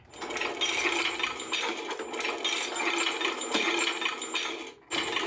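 Motorized Hasbro Marvel Legends Infinity Gauntlet toy moving its fingers, giving a steady, close mechanical clicking and whirring buzz that runs almost continuously, with a brief pause near the end before resuming.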